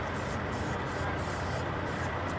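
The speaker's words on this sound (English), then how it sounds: "So I'm gonna go ahead and spray down my drop box." Disinfectant sprayed onto a truck trailer's drop box, a steady hissing spray running close and continuous with brief dips, no talking over it.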